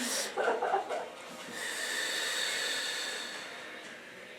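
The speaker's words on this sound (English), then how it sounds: "Yeah, just breathing really nice." Slow, soft breathing during a relaxation breathing exercise: a few short nasal puffs, then one long, steady airy exhale, close and quiet.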